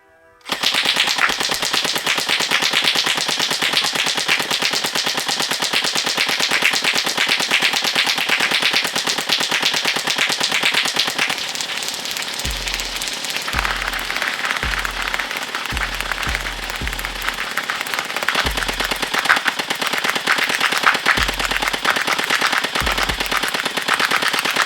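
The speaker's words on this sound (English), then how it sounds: "let's get right to the accuracy test to see how this blaster shoots." Yagee Shark Blaster toy foam blaster firing rapidly in a long continuous burst, loud and close, with a dense mechanical rattle and occasional low thumps of darts striking a target.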